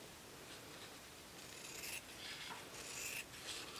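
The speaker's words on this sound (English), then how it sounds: "I'm just going to use fabric scissors to do that cutting." Fabric scissors cutting cloth for a rag wreath: soft, close rasping and snipping, faint and continuous over a few seconds, with no voices.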